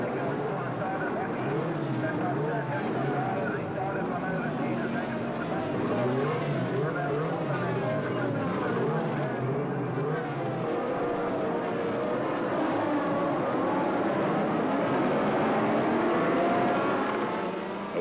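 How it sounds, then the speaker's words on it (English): A pack of 1982 Formula 1 cars led by six turbos, two Renaults, two Ferraris and two Brabhams, roars away from the start in a dense, sustained multi-engine howl with shifting pitches, under a commentator's voice. "Away they went with the 6 turbo cars in the lead, 2 Renaults, 2 Ferraris, 2 Brabhams"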